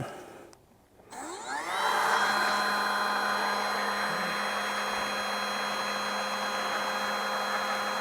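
A Milwaukee M18 cordless stick pump starts up and settles into a loud, steady whirring drone close by as it pumps water and gravel, running continuously without a break.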